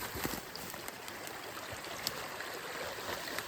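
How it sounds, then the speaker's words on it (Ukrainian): A Carpathian mountain stream flows as a steady, hissing rush of water with small gurgles and splashes, fairly faint and continuous, with no voices. "Я ще йду води до струмка набрати."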